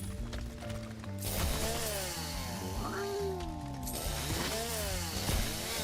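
A chainsaw weapon revs in a video game, a steady mechanical rattling drone with rising and falling pitch sweeps over a dense game soundscape, continuous and fairly loud throughout.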